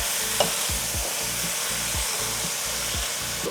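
Pieces of meat fry in a hot pan with their juices while being stirred, a loud continuous sizzle broken by regular scraping strokes about twice a second, close up and without speech.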